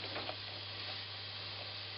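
Vegetables stir-frying in a pot give off a soft, even sizzle and hiss, continuous and fairly faint throughout with no talking.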